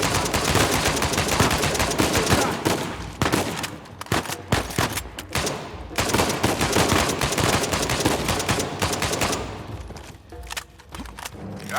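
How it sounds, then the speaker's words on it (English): Sustained gunfire from the Uncharted 4: A Thief's End video game, with rapid machine-gun bursts and overlapping shots, loud and dense, broken by a couple of brief lulls and no talking. "God damn it, Nate, I can hear the fireworks from here."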